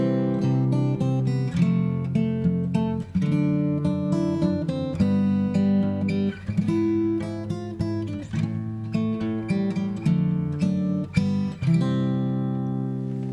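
A fingerstyle guitar arrangement of We Wish You a Merry Christmas rings out loud and close, with plucked melody notes over bass and chord tones in a steady, even rhythm.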